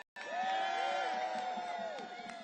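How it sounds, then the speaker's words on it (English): Outdoor crowd at a civil service rally on Capitol Hill, cheering and whooping together in a sustained wash of voices that starts abruptly and holds steady before easing slightly. "Give them a round of applause."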